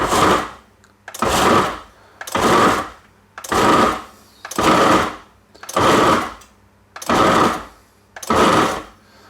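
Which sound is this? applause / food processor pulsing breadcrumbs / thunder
food processor pulsing breadcrumbs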